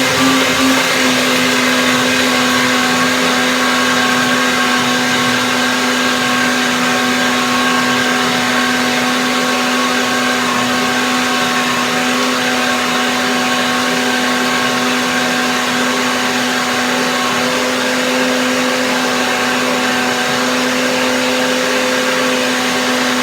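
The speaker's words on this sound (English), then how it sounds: "So I blend it now, and let's see what happens." A blender runs loudly and steadily, blending pineapple persimmon pudding, a constant high whirring motor drone with a strong hum that holds unbroken for over twenty seconds.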